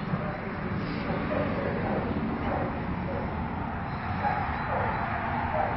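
Rescue dogs whining and yipping with short barks close by, a continuous restless mix of whimpers over steady background noise, with a person talking softly to them.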